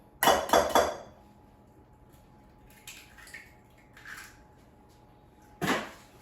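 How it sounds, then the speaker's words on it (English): An egg is cracked into a bowl: a quick burst of sharp taps and a crack up close, followed by a few softer clinks and a final knock after a quiet stretch. "let's start by cracking one egg in a bowl"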